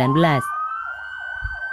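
Wailing ambulance siren from a fleet readied in Bantul, Yogyakarta for Lebaran 2019 homecoming traffic, loud and steady with a rising and falling tone, preceded by a brief blaring horn-like burst.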